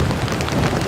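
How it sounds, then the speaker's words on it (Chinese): Heavy rain pouring down in an African tropical rainforest in Uganda, a steady, loud, dense wash of falling drops with no voices. "开始下雨了"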